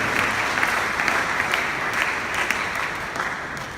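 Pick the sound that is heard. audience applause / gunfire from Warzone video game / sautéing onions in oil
audience applause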